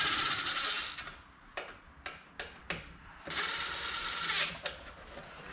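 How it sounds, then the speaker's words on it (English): Screws being driven in by hand on the plastic carburetor cover of a John Deere snow blower, heard as a series of short, close ratcheting clicks in bursts with brief pauses between them. "Next, you're just gonna put in the two screws on the top that'll hold the plastic cover down."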